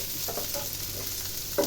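Malabar spinach (pui shak) frying in a pan, with a steady close sizzle and scraping stirring strokes throughout, plus a louder scrape near the end.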